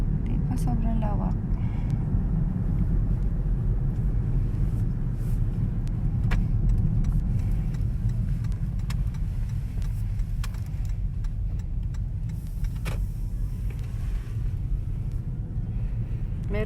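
Steady vehicle rumble fills a busy park parking lot, a constant low roar of cars with occasional sharper noises, while people talk over it.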